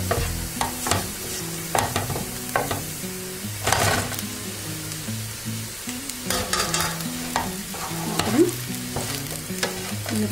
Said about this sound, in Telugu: ఇప్పుడు మనం దీనిలో ఇలా వేయించిన చికెన్ ముక్కలన్నీ కూడా దీనిలో వేసేసుకుందాం.